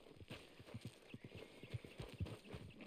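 A horse's hooves clip-clop in steady rhythmic beats in the video game Red Dead Redemption 2. The footfalls are soft and fairly quiet, with a faint whinny mixed in.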